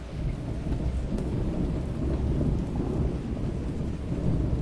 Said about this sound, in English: It's terribly stormy tonight.